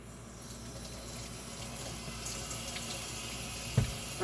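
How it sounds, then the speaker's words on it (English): A kitchen tap runs steadily into a double sink while hands are washed under it, a continuous close rush of water with a small splash or knock near the end; no voices. "I'm washing my hands because I want to show you the rest of the ingredients"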